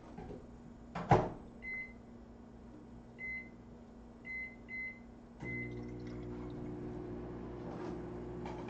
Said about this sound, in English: We turn on a microwave.